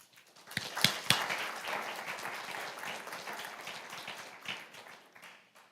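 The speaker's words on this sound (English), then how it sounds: "please join me in a round of applause for each student" A Board of Education meeting audience applauds a student with a burst of clapping that opens with a few sharp claps, settles into steady moderate applause and tapers off.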